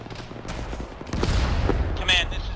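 Gunfire in a military video game crackles in rapid volleys, mixed near and distant shots rattling over a busy battlefield, with voices talking underneath.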